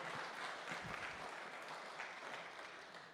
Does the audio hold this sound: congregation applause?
yes